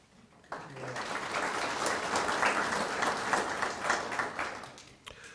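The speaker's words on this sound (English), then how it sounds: "We can honor them with some nice applause." Audience applause at a community service scholarship ceremony, starting abruptly after a brief quiet moment and continuing as moderately loud, even clapping from a room of people before tapering off.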